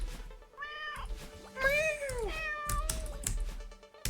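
A person imitates a cat, voicing several drawn-out meows with rising and falling pitch, close and clear over faint background noise and occasional knocks.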